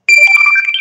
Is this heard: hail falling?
no